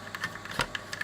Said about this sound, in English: Can you hear it ratcheting on?